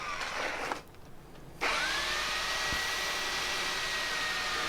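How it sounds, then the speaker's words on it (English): An old electric paddle mixer whirs steadily as it mixes grey mortar for repointing a patio. A brief lull comes early, then the motor runs loud and constant to the end with a faint rising whine. "old paddle mixer"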